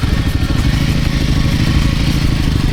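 Off-road motorcycle engine on a trail ride in Morocco, a loud close revving drone with a rough pulsing beat that holds steady under acceleration throughout.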